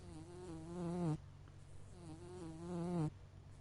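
Flies buzzing in a vampire visual novel game, two rising, droning swells of insect buzz, each cutting off abruptly, close and fairly loud with no voices.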